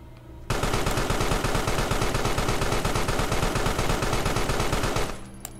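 Automatic weapon fire rattles continuously for about four and a half seconds in the creature action game Carrion, a loud, dense stream of rapid shots that starts abruptly and cuts off just as sharply.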